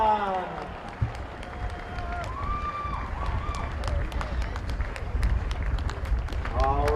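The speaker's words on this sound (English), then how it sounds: "Cheer 'em on!" A crowd at a polo match cheers and applauds from a distance, with scattered sharp claps and whistles over steady outdoor noise and a voice talking over a loudspeaker.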